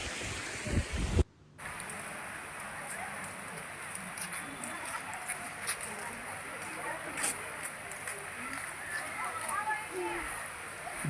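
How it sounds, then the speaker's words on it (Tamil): Rain falls at KRS Dam in Mysore as a steady, soft hiss of drops with scattered patters, heard outdoors after a brief loud rustle at the start. "திடீர்னு மழை பெய்ய ஆரம்பிச்சிருச்சு."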